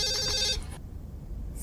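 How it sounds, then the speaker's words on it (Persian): A telephone rings with a brief electronic trill over a low background hum, then cuts off abruptly partway through. No voices are heard. "تلفن داره زنگ میخوره"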